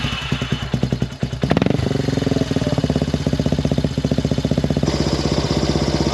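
A Yamaha Warrior 350 ATV engine idles steadily at about 1800 RPM with a fast, even, rumbling putter, close and loud, after a brief rev and clatter at the start.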